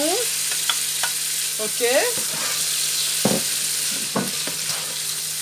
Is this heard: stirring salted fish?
yes